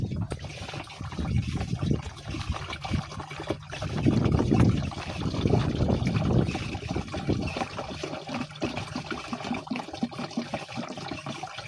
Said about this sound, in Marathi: पंपामध्ये टाकत आहोत।